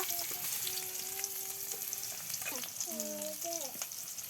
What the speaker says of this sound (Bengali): তেল দিয়ে দিলাম পেঁয়াজ কুচি কাঁচামরিচ কুচি আর মরিচ বাটা